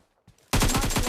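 Video game gunfire: after a few faint clicks, a loud rapid burst of automatic shots erupts and continues in a fast, even rhythm to the end.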